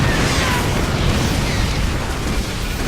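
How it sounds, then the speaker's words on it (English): Zerg scourge suicide bombs detonate in StarCraft II, a dense continuous roar of explosions and rumbling bursts filling the whole stretch, loud and layered with no pauses. "They're little Zerg suicide bombs."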